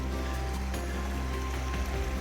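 Creek water trickling and flowing beside a hiking trail in the desert Southwest, a soft steady murmur close by, with a faint hum and a few light clicks.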